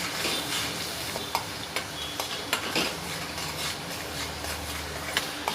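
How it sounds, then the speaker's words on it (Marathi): A roasted spice paste (vatap) for village-style kat vada frying in hot oil: a continuous soft sizzle with occasional sharp ticks and spatula scrapes against the pan, close and fairly quiet, with no voices. "त्यात मी आता ते भाजलेलं वाटप टाकणार आहे आणि त्याला आता आपण चांगलं तेलामध्ये परतून घेऊया"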